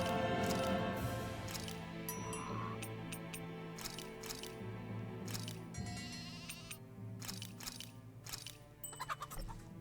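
Repeated sheep bleats in the video game Tales of Arise, some overlapping, over a steady background music bed with occasional clicks and chimes.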